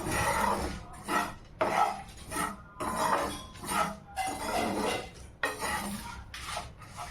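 Corn pakoda batter with coconut being mixed by hand in a bowl, wet squelching and scraping in repeated bursts with short pauses, close and clear, no talking.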